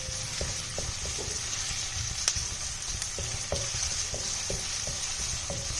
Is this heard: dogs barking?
no